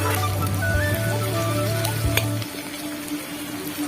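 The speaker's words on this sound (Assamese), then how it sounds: "বা ৰঙাকৈ ভাজিম, বগা হৈ থাকিলে ভাল নালাগে, ৰঙা হৈ থাকিলে ভাল লাগে" Pork and bamboo shoot fry in oil in a pan, a continuous close sizzle with a low steady hum underneath for the first half, no voices present.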